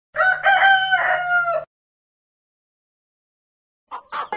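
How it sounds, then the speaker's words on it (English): A rooster crows one loud, close cock-a-doodle-doo lasting over a second, followed by silence and then a few short clucks. "Chickens live on the farm."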